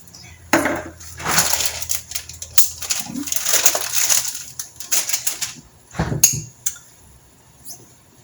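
Fresh bean sprouts are scooped heaping into a half-cup measure for a lentil salad, giving close, crisp rustles and light clattering scrapes in uneven bursts, with no talking.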